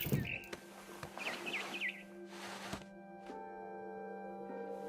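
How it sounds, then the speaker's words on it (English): A barn swallow chirps in the video game What Remains of Edith Finch, a few quick, high twittering calls over a quiet ambient hum. "Then I heard chirping outside my window."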